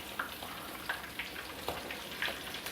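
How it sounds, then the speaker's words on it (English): Quiet, steady crackle of pork frying in oil until golden brown, with small sharp pops scattered irregularly over the sizzle. "And we're just going to keep frying these until they're a nice golden brown."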